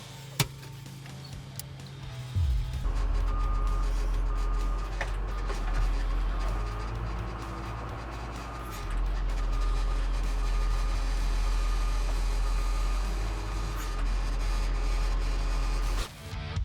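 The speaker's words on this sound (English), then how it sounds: "This is like my second time driving this new top lift, or actually side lift." Side lift container handler driving at a shipping container yard, a loud steady engine drone with a tonal whine running throughout, rising in intensity partway through, with no clear reversing beeps standing out.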